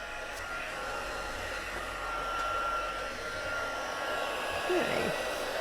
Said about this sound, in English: just going to heat up the heat tool